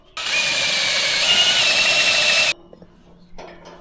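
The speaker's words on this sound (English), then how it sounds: "let me get the drill" A power drill runs for about two and a half seconds as one loud, steady whine that stops abruptly, followed by faint clatter.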